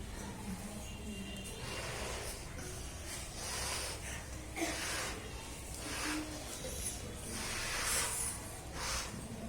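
A balloon is inflated, with repeated hissing puffs of air in rhythmic bursts, fairly close and soft, against a low background hum.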